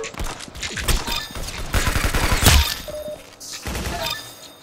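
Rapid, loud bursts of gunfire from a new weapon in the Roblox shooter Arsenal, with dense firing through the first half and a sharp peak before the shots thin out, set against game background noise.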